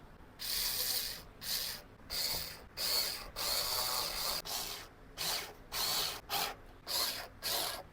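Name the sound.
power drill driving screws into a wall shelf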